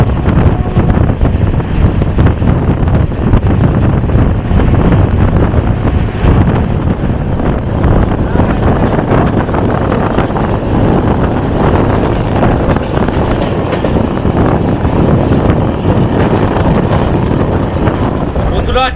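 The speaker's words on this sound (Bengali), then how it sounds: "ট্রেন সবে সবে পাঠানকোট ছাড়লো" A moving passenger train pulls out of Pathankot station in Punjab, heard from inside as a loud, continuous rumbling roar mixed with wind noise that holds steady for the whole stretch.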